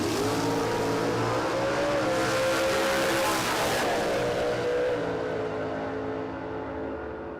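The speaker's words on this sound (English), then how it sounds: "Let's listen to RPM again, echoing through the downs." A classic drag racing car with a Cleveland engine revs hard and roars steadily at Warwick Dragway, a loud sustained blare with rising and falling pitch that fades slightly at the end.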